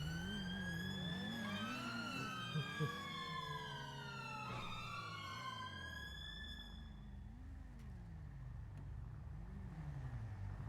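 Police car sirens in the game GTA FiveM wail with sweeping rising and falling tones for about seven seconds, loud over a steady engine drone, then cut out leaving just the idling motor rumble.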